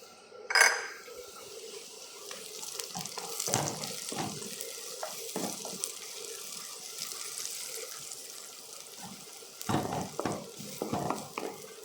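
Onions and garlic fry in a pan for a vegetable pasta, giving a soft, continuous sizzle broken by a few louder scrapes and clatters of a utensil.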